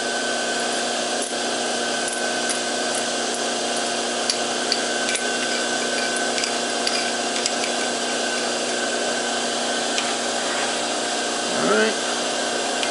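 A lathe runs with a steady whine while a 9/64 drill bit bores into a workpiece for an 8-32 tapped hole, a continuous machine hum with faint clicks and a brief shift near the end.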